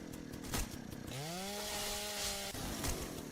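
A chainsaw from a video game mod in a Dark Ages setting revs up into a steady, harmonic engine whine that holds for about a second and a half, then cuts off, with no talking over it.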